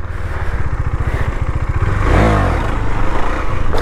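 A KTM Duke 390 motorcycle engine revving for a wheelie, starting with a steady throbbing idle, then swelling into a loud rising rev before settling back into a rough, pulsing run, with no voices.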